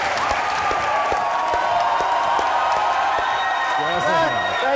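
Studio audience applauding and cheering on a TV comedy talk show, a loud, sustained wash of clapping with whoops, and voices talking over it.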